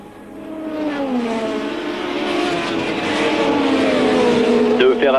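Formula 1 race cars at the 1984 San Marino Grand Prix roar past, engine pitch rising and sweeping steadily louder across the stretch, with a commentator talking over the continuous engine noise.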